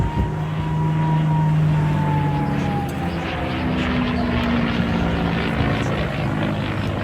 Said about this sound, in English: there's the Mustang turning itself into a musical instrument again